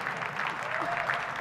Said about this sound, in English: Yeah, clap. All right. Yeah, let's hear it.